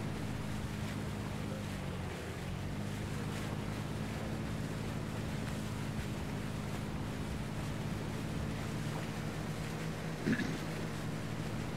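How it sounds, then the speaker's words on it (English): A boat engine in the video game Arma 3 drones steadily and loudly with a low, constant hum over waves and wind noise, holding unbroken for the whole stretch with one brief bump near the end. "It's hard to hear shit over this engine"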